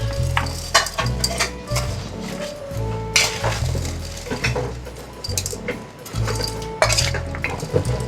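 Grated carrots are stirred with turmeric, salt and spice masala in a pan for a carrot pickle, with repeated metal spoon clinks and scraping against the pot over a faint sizzle.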